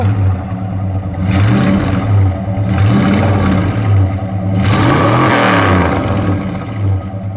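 1964 Plymouth Savoy 426 Street Wedge V8 rumbling loud and close, rising in repeated revs from a deep throaty idle.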